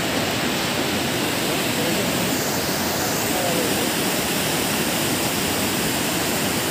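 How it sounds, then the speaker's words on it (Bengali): The Mandakini river rushes nearby on the Gaurikund to Kedarnath trek at night, a steady, loud broadband roar of fast water that fills the whole stretch without a break. "পাশ থেকে বয়ে চলেছে মন্দাকিনী নদীটা।"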